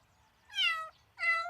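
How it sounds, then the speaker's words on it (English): A cartoon kitten stuck up in a tree meows twice, two clear, fairly loud mews separated by a short pause, with no talking. "could you get that kitten out of the tree?"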